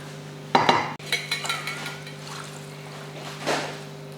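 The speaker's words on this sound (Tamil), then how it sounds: "இப்போ தண்ணி சேர்த்துருவோம்" Water splashes into a metal pot with a clatter, followed by a softer trickle and a couple of light knocks.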